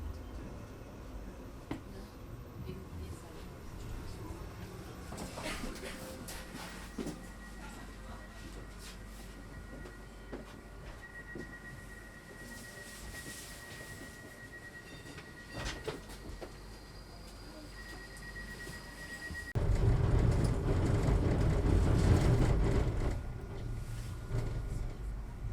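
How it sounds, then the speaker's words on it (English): Interior of a new Stadler TINA tram on BLT line 11 in Basel, a steady low rolling rumble with a long tonal whine in the middle, then a louder surge of running noise near the end. "Welcome aboard the brand new Stadler TINA train operating on BLT"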